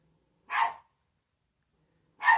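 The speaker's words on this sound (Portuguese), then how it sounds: "tem até um cachorro latindo lá fora" A dog barks twice outdoors, two short separate woofs a couple of seconds apart, moderately distant and alone in an otherwise quiet background.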